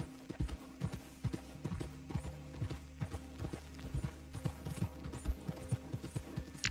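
Horse hooves clip-clop in a quick galloping rhythm in a Wild West video game, a steady run of close, sharp thuds over a low game soundscape with no talking.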